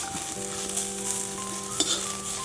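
Masala sizzling in a pan on a village wood-fired stove, a steady close frying hiss with faint clinks of a utensil throughout.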